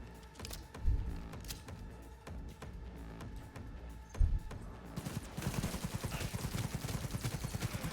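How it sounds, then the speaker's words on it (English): A smart gun fires in Cyberpunk 2077 as rapid bursts of close, sharp shots, ending in a dense, fast automatic stream, with no talk. "Say hello to my smart gun."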